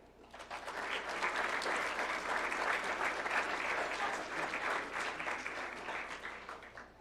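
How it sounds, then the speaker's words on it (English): Audience at a school board meeting and award of excellence ceremony applauding students, a sustained round of dense clapping that swells quickly and holds before tapering slightly. "Please join me in one more round of applause for all the Award of Excellence students."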